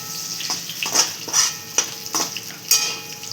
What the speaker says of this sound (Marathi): अशा सगळ्या वड्या तळून घ्यायच्या.